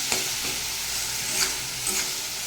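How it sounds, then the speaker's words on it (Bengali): Snake gourd mixed with ground sesame paste is stirred in a pan, giving a steady low sizzle with a few soft scraping strokes, close and fairly quiet, with no voices. "আর এটাকে একটু এরকমভাবে নেড়ে চেড়ে দিতে হবে, ভালোভাবে মিশিয়ে নিতে হবে"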